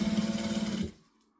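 A sewing machine runs briefly while stitching a zipper lining, giving a fast, even mechanical hum close by that stops abruptly after under a second, leaving near silence.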